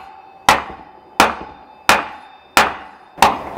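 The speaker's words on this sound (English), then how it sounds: "We're going to use an axe." An axe strikes a stuck wooden piece in a garage, landing five sharp, loud, evenly spaced blows about two-thirds of a second apart, each with a brief ringing decay.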